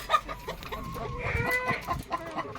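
Laying hens clucking close by on a farm, a busy run of short overlapping clucks and calls with one longer drawn-out call in the middle.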